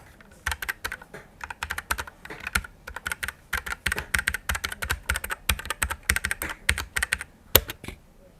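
Rapid, uneven key clacks from an EGA Type-K7 TKL mechanical gaming keyboard with linear switches, close and crisp, steady typing throughout with no talking.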